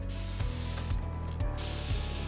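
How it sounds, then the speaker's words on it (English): Turtle Wax interior detailer spray on a car interior gives four rhythmic, close pump-spray hisses in quick succession, with no talking. "I'm gonna go ahead and just give it several sprays here."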